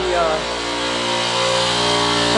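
An air compressor runs loudly and steadily in a workshop, a constant droning hum with strong harmonic tones that fills the whole stretch without pause.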